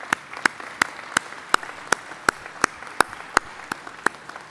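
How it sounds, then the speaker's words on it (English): At a PhD commencement ceremony at Stevens Institute of Technology, sparse applause comes from a small group, with individual sharp claps landing in a fairly regular rhythm, close and distinct over a quiet room. "So all of you deserve a round of applause."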